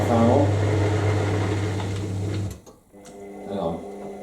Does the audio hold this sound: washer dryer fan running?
yes